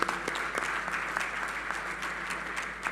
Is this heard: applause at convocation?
yes